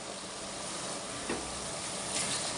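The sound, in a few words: frying in a clay pot for mullet fish curry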